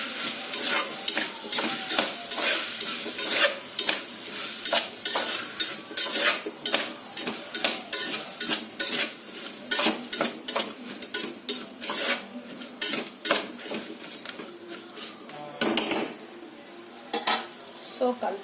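Vegetable biryani mixture with turmeric being stirred in a metal pot, a rhythmic series of loud scraping and clanking spoon strokes over a soft sizzle, close up and without voices.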